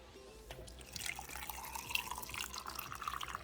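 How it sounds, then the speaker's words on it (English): Water trickles and splashes as a small amount is poured into smoothie ingredients, a faint, continuous pour that starts about a second in and runs to the end. "now I am adding little bit water to this"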